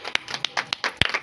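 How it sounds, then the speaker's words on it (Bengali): Several people clap their hands during a spin-wheel challenge game, giving about ten sharp, uneven claps scattered across the moment, fairly soft with no steady rhythm. "চলো হাততালি।"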